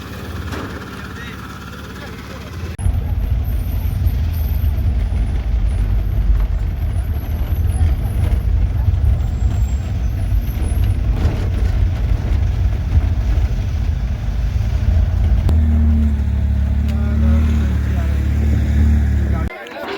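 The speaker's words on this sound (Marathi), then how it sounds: "आता टेम्पोमध्ये बसून आपण निवासस्थानी जाणार आहोत" A tempo vehicle's engine hums low and constant from the inside while it is being ridden, with road rumble beneath it and people talking over it the whole time.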